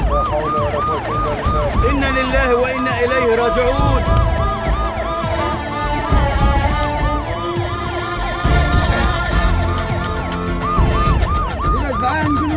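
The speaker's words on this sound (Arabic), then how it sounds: "اسعاف" An ambulance siren wails in rapid repeating rises and falls, loud and nearby, in an Egyptian TV drama scene, while a voice speaks briefly over it.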